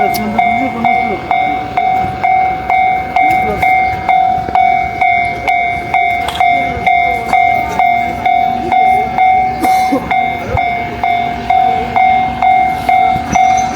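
A train rolls past in Kyoto, Japan, with a steady rhythmic clatter of wheels and a long, sustained horn tone sounding throughout, loud and close.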